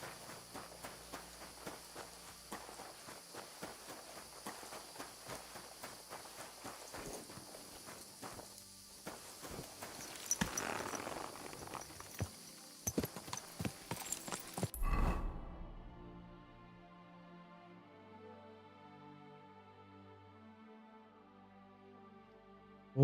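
Horse hooves clip-clop in the video game Kingdom Come: Deliverance II, a string of close irregular steps that stops partway as quiet music takes over.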